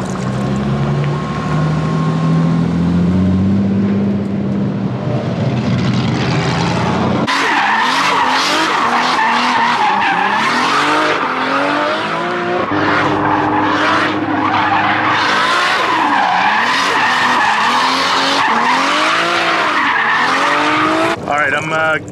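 Drift car tearing around a track with loud, sustained tire skidding and squealing over a revving engine, the screech rising and falling in long sweeps as the car slides through corners.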